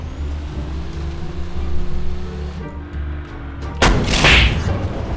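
A tank cannon shot in a War Thunder-style game with an XM8 tank: a sudden loud blast cuts in over a steady rumbling engine drone and rolls into a roaring, decaying boom.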